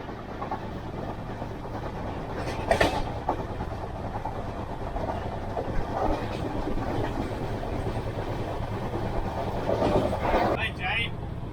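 Mewar Express passenger train running on rails, a steady near rumble with faint clickety-clack and rattling throughout, voices murmuring beneath it.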